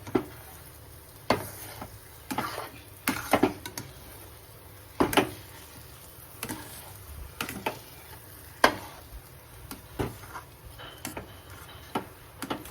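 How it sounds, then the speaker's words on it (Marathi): Moong dal sheera being stirred in ghee in a pan: irregular scraping clicks and taps of a spoon against the pan over a faint, steady sizzle, close and quiet, with no talking. "आता सगळीकडून छान हलवून घेते का"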